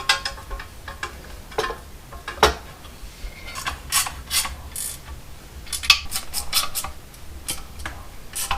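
A ratchet clicks in short repeated bursts while bolting an exhaust onto an LS1-powered Patrol, with close, sharp mechanical ticks separated by brief pauses.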